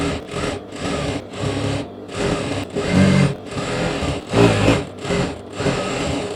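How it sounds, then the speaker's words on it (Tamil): A sewing machine stitches lehenga lining in close, loud bursts, running in steady rapid rhythm with brief pauses between runs. "நான் இப்போ லைனிங் வந்து தனியாக தைக்கிறேன்"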